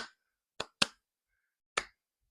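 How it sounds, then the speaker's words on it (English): Three sharp, dry hand claps in a sunshine pop song recording, a pair close together followed by a lone clap after a pause, isolated against silence. "And we also get these beautiful hand claps as well."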